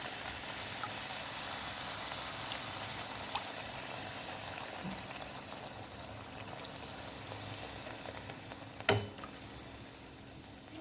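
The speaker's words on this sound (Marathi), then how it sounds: "आता तेल तापलंय, यामध्ये पुरी सोडू आपण" Palak puri dropped into hot oil fries with a faint, steady bubbling sizzle and one sharp clatter near the end.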